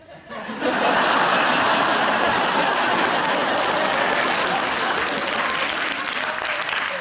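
A studio audience at a comedy panel show on 8 Out of 10 Cats bursts into loud, sustained clapping mixed with laughter, starting abruptly after a brief quiet moment and holding steady until the end.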